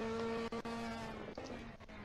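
Ferrari Challenge race car warming its Pirelli tyres on the Imola circuit, a steady droning engine tone that holds for about two seconds with a few brief dips, moderately distant and faint.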